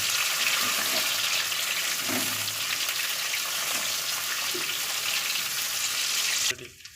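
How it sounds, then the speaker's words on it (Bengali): Chopped tomatoes frying with onion, ginger and garlic for a chicken kosha, producing a loud, continuous close sizzle with occasional stirring scrapes that cuts off abruptly at the end. "এবারে আমাদের কেটে রাখা টমেটোগুলো দিয়ে দিচ্ছি সবগুলোকে আবার ভালোভাবে একটু মিশিয়ে ভালো করে একটু ফ্রাই করে নেব"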